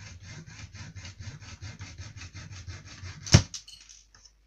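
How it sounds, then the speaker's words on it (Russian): A small hacksaw cuts off broken plastic pieces from a headlamp mount, a quick even run of short, soft rasping strokes, ending in a sharp snap as a piece breaks away, then a few faint clicks. "Первым делом берем ножовочку и отпиливаем наши обломыши."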